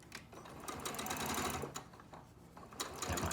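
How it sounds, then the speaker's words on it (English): A sewing machine stitches a short quilt seam at a quarter-inch crossing point, running in steady bursts with brief pauses and speed changes, close and fairly loud with no talking. "now we're going to sew that little bit there to get that to line up where it crosses over"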